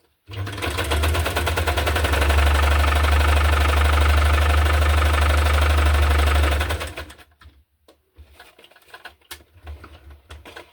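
Sewing machine running a zigzag stitch, a loud, steady rapid mechanical whir with a deep hum for several seconds, then stopping abruptly, followed by a few soft handling clicks and rustles.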